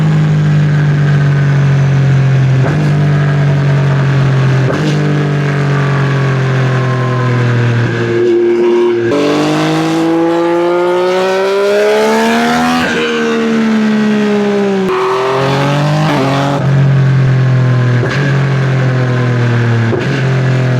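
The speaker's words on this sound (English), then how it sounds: "I hope that took away some of the noise and vibration under the bike" A motorcycle engine drones loudly and continuously while riding, picked up by a mic mini stuffed in a sock under the seat, with revs rising and falling through gear changes and steady vibration rumble throughout.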